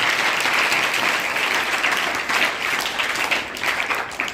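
Loud, sustained applause from an audience at a program held at a government senior secondary school in Sardarpura Kharta, Suratgarh, with many hands clapping densely and steadily throughout.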